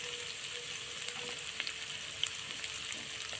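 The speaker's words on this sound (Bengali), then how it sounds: "আস্তে আস্তে হালকা করে করে নাড়তে থাকবো" Gentle sizzling of egg and potato curry in a frying pan, a steady soft fry with faint scrapes as it is slowly stirred, low and continuous with no voices.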